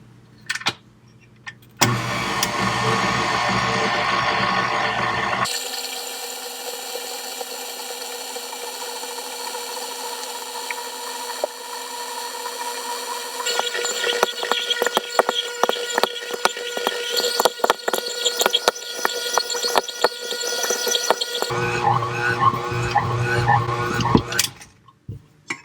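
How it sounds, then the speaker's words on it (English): A stand mixer beats bread dough on its slow setting, a motor whirring steadily and then turning into a rougher, rattling churn with bursts of clatter, stopping abruptly near the end. "I'm going to beat this on slow for about 5 minutes until the dough is smooth and elastic"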